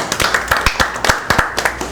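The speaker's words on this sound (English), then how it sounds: "Clap, clap." An audience claps together in a crowded room during a dinner talk show, giving a short round of sharp, fairly close hand claps in a loose, uneven rhythm.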